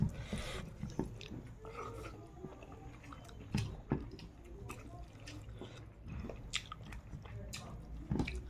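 Someone eats fish curry with rice in big bites, with close, wet, soft chewing and mouth sounds, intermittent smacks and squishes against a low room hum.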